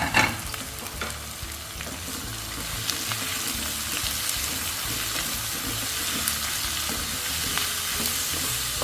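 Ginger garlic paste with four cashews and three cardamom pods stirred in a pan of hot oil for chicken biryani, a dense continuous sizzle with constant scraping of the spoon, close and steady throughout.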